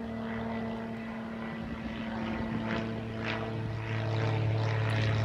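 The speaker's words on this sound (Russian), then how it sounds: "Кстати, старинный самолет, военный." An old military propeller airplane drones overhead outdoors, a steady low engine hum that holds throughout and swells slightly toward the end, with no talking.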